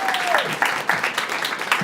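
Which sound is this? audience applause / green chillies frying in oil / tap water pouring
audience applause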